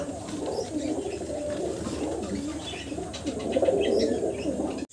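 A male fancy pigeon coos repeatedly from nearby amid other birds' soft chatter and cooing, a continuous murmuring rise and fall that swells toward the end.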